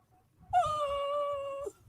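A dog gives a single drawn-out, high whining whimper lasting about a second, clear and close over faint low background noise.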